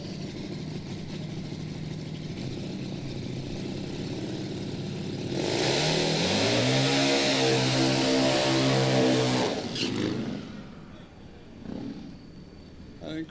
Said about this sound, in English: Getting ready for the rolling burnout.